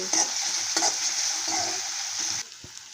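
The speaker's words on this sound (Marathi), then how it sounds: "टोमॅटो आणि मिरची भाजलेली आहे" Tomato and green chili roast in a pan for masala Maggi, a bright, close sizzle broken by spatula scrapes, dropping suddenly quieter near the end.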